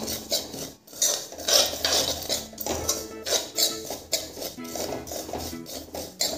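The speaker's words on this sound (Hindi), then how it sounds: "इसे मैं मीडियम फ्लेम में ही चलाते हुए भून रही हूँ।" Poppy seeds being stirred and roasted over a medium flame in a kadhai for mava gujiya, with repeated scraping and clinking of a metal spoon against the pan in an uneven rhythm, close and clear, with no talking.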